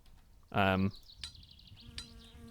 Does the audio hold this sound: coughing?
no